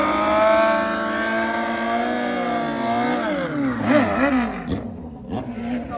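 A Suzuki GSXR 1000 street bike with a stretched frame revs at a drag strip at Keystone Raceway in New Alexandria, Pennsylvania. A loud, steady engine drone gives way to repeated pitch dips and climbs as it shifts and pulls away.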